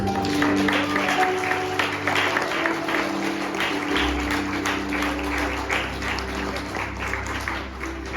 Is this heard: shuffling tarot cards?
no